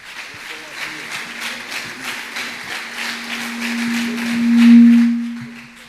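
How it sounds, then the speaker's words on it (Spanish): Church congregation applauding for an apostle during a service, a steady round of clapping from a crowd, continuous and moderately loud, with a low sustained hum rising beneath it toward the end. "Então vamos aplaudir bem forte."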